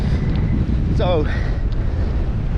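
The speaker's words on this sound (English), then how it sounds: "as you can tell, it's a little bit windy." Steady low wind buffeting rumbles against the microphone throughout, on Westray in Orkney, with a brief spoken word partway through.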